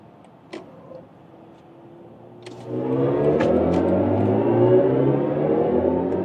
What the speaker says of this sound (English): that was the acceleration onto the Autobahn